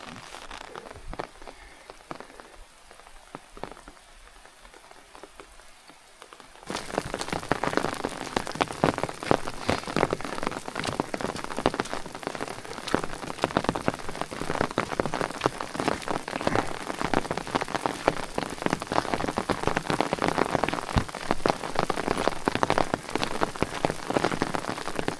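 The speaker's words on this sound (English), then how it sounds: "we got caught in the rain again" Rain falls on the Colorado prairie along the trail, starting light and quiet and then turning abruptly into a dense, steady patter of drops hitting the surface all around for the rest of the stretch.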